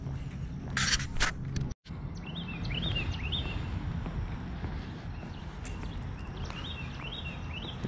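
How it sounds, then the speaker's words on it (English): Small birds chirp in short, repeated bursts in the background during a river float in New Braunfels, Texas, alongside scraping, clopping sounds and a steady outdoor rush. "You hear the birds chirping."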